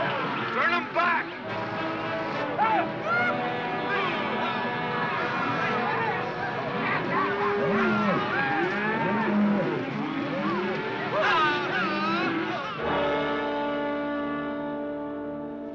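A herd of cattle moos and bellows loudly and continuously, many overlapping calls close by, with a murmur of voices mixed in.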